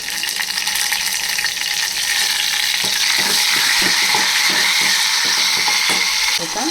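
Curry leaves crackle and sizzle loudly in hot oil for a milagai killi sambar, a dense continuous spitting fry with quick stirring scrapes in the second half.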